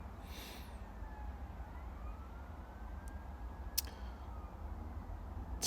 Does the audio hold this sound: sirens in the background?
yes